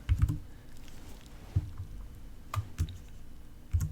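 A value is typed on a computer keyboard, a handful of soft separate keystrokes with pauses between them, close and quiet, with no talking.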